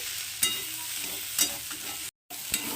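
Malabar spinach stems and potatoes frying over medium heat, with a soft sizzle broken by a spatula scraping through the pan roughly once a second and a brief silent gap near the end.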